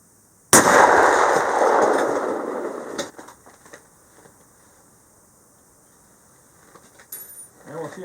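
A single sharp, loud rifle shot from a ZH 304 by BRNO firing 173 grain bullets at minus 30, cracking close outdoors and decaying over a couple of seconds, followed by quiet and faint handling noises.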